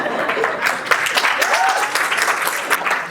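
An audience claps after a hydrogen-oxygen explosion demonstration at a university and high school science event, dense steady applause throughout with a few voices underneath.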